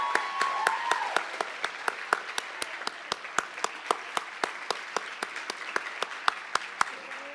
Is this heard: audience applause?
yes